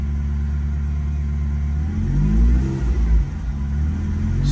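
A 1983 Euro-spec Ferrari Mondial Quattrovalvole idles after a cold start, a deep steady engine rumble close to the car that swells briefly with a slight rise in revs before settling again.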